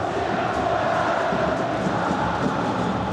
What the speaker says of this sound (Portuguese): Nesse momento, quem grita é a torcida do Botafogo.